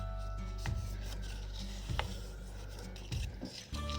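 Origami paper is folded and creased by hand, soft close rubbing and scraping strokes with a few firmer swipes as the creases are pressed down, quiet and without talk.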